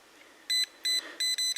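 A voltage detector held near the insulation of a live 240 V wire gives four sharp, high electronic beeps in an uneven pattern, loud and close against a quiet background.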